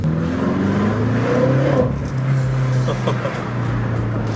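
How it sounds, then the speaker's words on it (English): A BMW F10 M5's engine and exhaust drone steadily while driving through town, with a low sustained tone and slight pitch shifts as it revs, close and loud. "so every time Pierre gets on the exhaust or downshifts, it's just the sounds just echo throughout the street"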